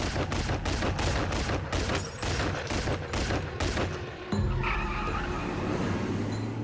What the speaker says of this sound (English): the gun just started firing